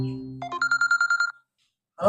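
A telephone rings in a Sundanese comedy film, a quick run of about eight rapid electronic trill pulses, loud and close, followed by a brief pause and then a voice speaking.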